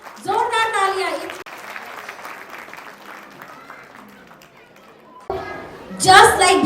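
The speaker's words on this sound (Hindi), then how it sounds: "So huge round of applause for all the kids who are coming on stage to perform" Audience applause and cheering for children coming on stage at a school annual day function, rising loudly at the start and again at the end, with an announcer talking over a quieter middle stretch.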